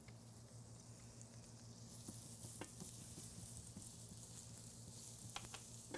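Garlic sizzles in oil in a non-stick pan for a Thai dish, a steady broadband frying hiss with scattered small pops and crackles, close and continuous, with a low hum underneath and no talking.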